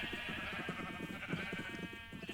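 Sheep bleat in a video game, several quiet, repeated cries over a steady humming music bed, with no talking.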